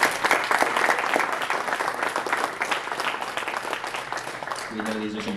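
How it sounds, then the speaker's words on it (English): Sustained, dense applause from the audience at the close of a debate on racism in America, steady and fairly loud throughout, with a voice briefly emerging near the end. "Please give a round of applause to both of these guys."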